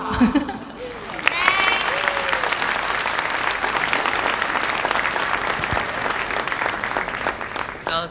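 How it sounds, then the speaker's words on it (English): An audience at an opening ceremony applauds the performers with dense, sustained clapping, preceded by a brief musical tail and a few voices. "let's give a round of applause again to all the performers today"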